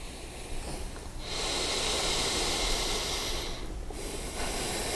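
A long, steady, breathy exhale during a yoga exercise, close and fairly loud, held for a few seconds with a short pause and then a second breath beginning, no talking.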